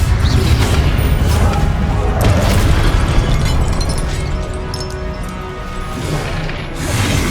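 The Incendio fire spell in Hogwarts Legacy erupts as a loud, close, booming burst of flame that rolls into a sustained, crackling roar, then eases off and surges again near the end.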